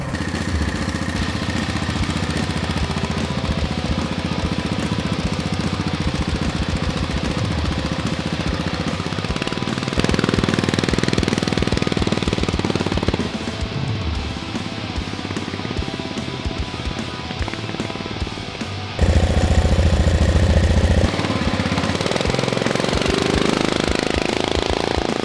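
A Duromax 440cc engine on a mini jeep runs continuously with a low, rumbling chug that shifts in load and pitch as the vehicle moves.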